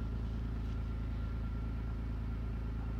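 Kawasaki Mule FXR utility vehicle idling: a steady, low, even engine drone with a constant rumble, close by and unchanging in level, with no talking.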